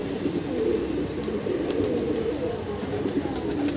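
A freshly caught wild pigeon with a thick beak coos continuously and close up, a steady low murmur with faint chirps above it.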